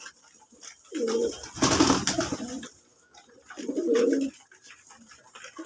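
Domestic running pigeons coo in two separate low, throaty bouts, each lasting about a second. A louder burst of noise lands between them, and faint background sounds continue throughout.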